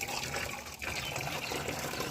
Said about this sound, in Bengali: জল ভরতে দেও